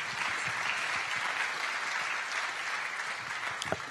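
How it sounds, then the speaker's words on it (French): Steady applause from an audience for five panelists leaving a round-table on business financing at a chamber of commerce in Troyes, sustained dense clapping throughout with a sharper clap near the end. "on va vous applaudir tous les 5"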